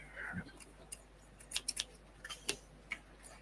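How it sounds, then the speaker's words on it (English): Scissors snip plastic parts during a model kit build, giving a few quiet, sharp clicks and cuts spaced irregularly across a few seconds in an otherwise hushed room. "Scissors. Scissors."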